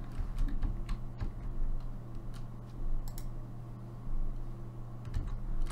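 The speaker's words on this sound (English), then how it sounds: "the clicking and the keyboard in the background." Computer keyboard typing and mouse clicking go on during a gaming session, a quiet irregular patter of keystrokes and clicks over a low background hum, with no talking.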